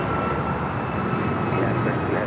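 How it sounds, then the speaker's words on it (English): United Airlines jet arriving from Newark at Los Angeles International Airport, heard as a loud continuous engine rumble and rush with no break. "United Airlines 2692 coming in from Newark."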